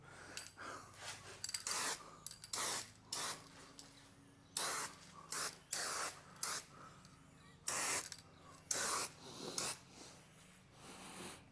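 Short, forceful bursts from a fast-flowing turbo aerosol spray paint can, used to paint the tank and guards of a BSA motorcycle, hissing loud and close in about a dozen separate blasts, each a second or two long, with short gaps between.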